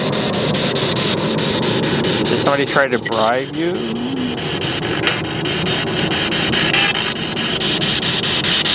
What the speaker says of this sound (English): Plane makes it hard to hear this.